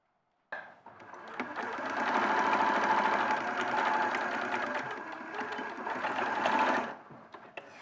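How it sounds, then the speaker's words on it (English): A sewing machine stitching down assembled quilting fabric runs steadily for about six seconds, a close, even mechanical whir with a rapid needle rhythm that starts and stops abruptly. "I'm just going to machine stitch down"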